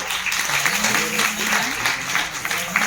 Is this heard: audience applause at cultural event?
yes